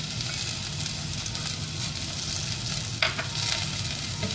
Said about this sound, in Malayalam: എണ്ണ ചൂടാവുമ്പോഴത്തേക്കും നമ്മൾ അരിഞ്ഞു വെച്ചിരിക്കുന്ന ചെറിയ ഉള്ളി അതിലേക്ക് ഇട്ട് കൊടുക്കാം.